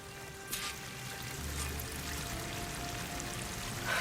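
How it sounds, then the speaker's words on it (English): A waterfall in the video game Horizon Forbidden West pours steadily, a soft continuous rush of falling water with a faint tonal hum in the background. "That waterfall must be coming from somewhere."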